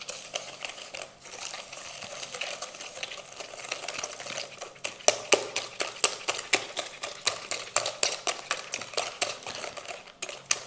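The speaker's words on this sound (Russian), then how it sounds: "сахар и венчиком будем взбивать. Еще ванильный сахар добавим вместе, вот так. И взбиваем так вот." A metal whisk beats eggs with sugar and vanilla sugar in a bowl, making fast, steady, rhythmic clicking and scraping against the bowl that runs on close and clear.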